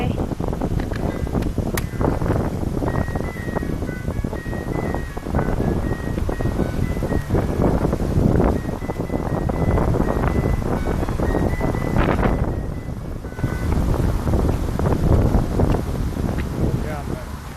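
Steady wind blowing against the microphone on a wet, overcast walk to the shops, a loud broadband rush that lasts throughout with brief gusty surges and a dip near the middle. Faint talk mixes in.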